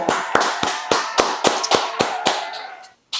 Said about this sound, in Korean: 박수 한번 해서.